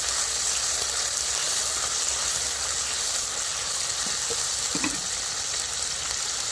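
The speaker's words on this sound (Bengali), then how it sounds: "আর পেঁয়াজ আর রসুন যে বেটে রাখছিলাম ওটাও দিয়ে দিচ্ছি তেলের ভিতরে।" Onion and garlic paste sizzles steadily in hot oil, a dense continuous frying hiss with a few soft scrapes of stirring near the end, close and loud with no talking.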